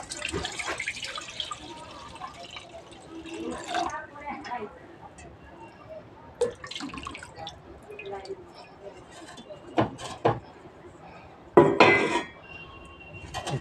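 Coconut milk poured into a hot kadai (wok), with soft liquid drips and splashes, scattered clinks of metal utensils against the pan, and a voice talking over it.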